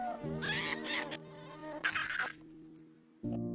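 Flies buzz around a beetle in an animated film about black and red ants, a faint, wavering insect drone that swells and drops in short bursts over a soft background, with no talking.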